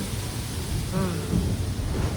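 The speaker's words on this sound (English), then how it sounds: "It's raining, and so now we're getting wet because of the rain." Steady rain pours at an outdoor theme park, a loud continuous hiss with a faint low rumble of thunder underneath and brief voices mixed in.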